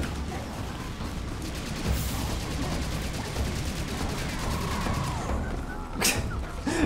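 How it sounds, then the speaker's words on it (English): Dual Uzis in the Serious Sam 2 game fire in a continuous rapid rattle, with repeated closely spaced shots running throughout alongside thuds and mechanical clatter of the game action. "If you just run at them shooting the Uzis, they go flying."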